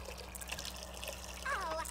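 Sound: shower running in The Sims 2 video game

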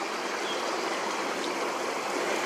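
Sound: small stream of flowing water

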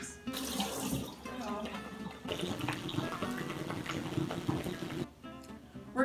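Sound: water running from a tap while washing mushrooms

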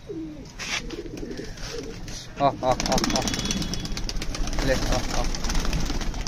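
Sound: pigeon chicks cooing

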